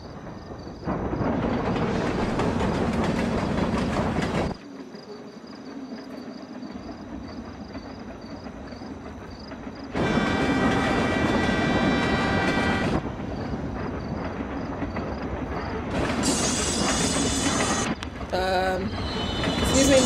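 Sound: passing train in the video game Life Is Strange: Before the Storm

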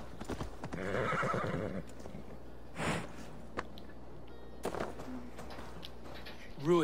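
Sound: horse neighing in video game

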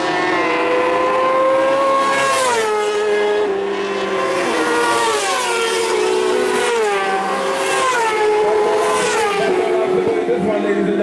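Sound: racing motorcycles on circuit

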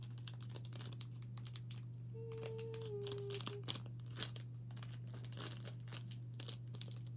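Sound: opening a plastic package of mochi

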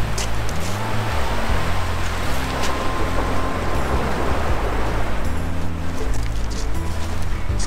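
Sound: big ocean wave coming in on shore

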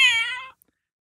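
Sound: cat meowing

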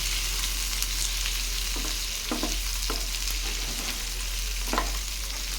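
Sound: tomatoes being sautéed in a pan

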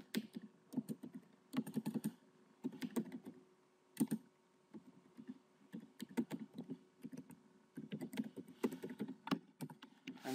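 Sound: typing login details on computer keyboard

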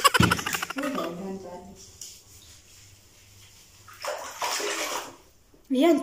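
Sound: child bathing, splashing water in a bathtub

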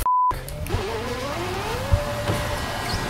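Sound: car spinning out in a racing video game

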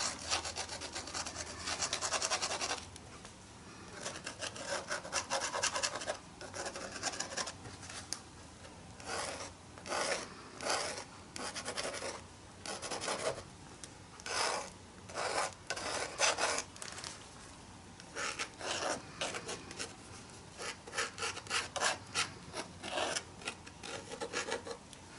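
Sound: rubbing green gold paint into art journal page

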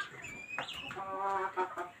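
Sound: chickens clucking at a poultry seller

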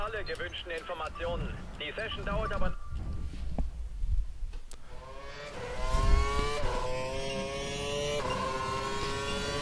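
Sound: Caterham race car driving in video game F1 2012

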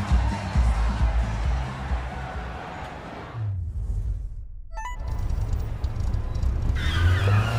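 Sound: car tires skidding in video game

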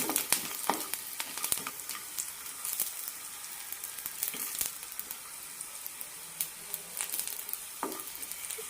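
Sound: garlic frying in a pan

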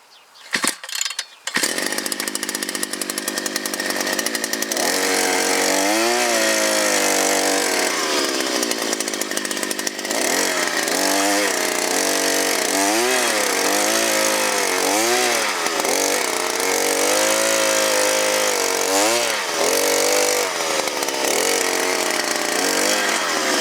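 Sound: petrol soil auger engine running

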